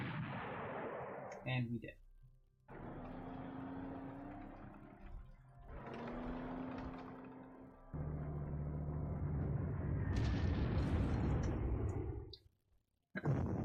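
Artillery units come under attack in the Panzer Corps strategy game, with bursts of explosive gunfire and booming impacts over several seconds, with a person talking underneath.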